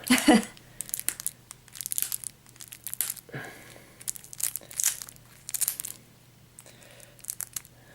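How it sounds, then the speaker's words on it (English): A foil Munchkin card game booster pack with a gold strip is crinkled and torn open by hand, giving repeated close, bursty crackles and rustles over about eight seconds with short pauses between grips. "This has a gold strip, as though it should open really easily, but I am struggling to find where you open it."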